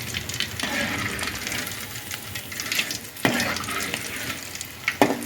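Anchovies frying in hot oil for anchovy chilli, a steady bubbling sizzle with occasional sharp clinks and stirring knocks, close and moderately loud.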